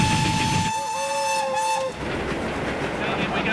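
A preserved steam railway train rumbles toward Berwyn Tunnel, its horn or whistle sounding a steady sustained tone for about a second over continuous rolling rail noise.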